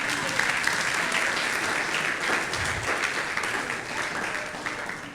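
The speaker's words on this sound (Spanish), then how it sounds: "Denle un aplauso a Dios," A church congregation applauds during a Sunday service, a dense, steady wash of clapping that holds at an even level for several seconds with no break.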